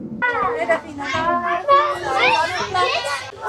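Children chattering and calling out close by aboard a train in Switzerland, lively overlapping young voices filling the whole stretch.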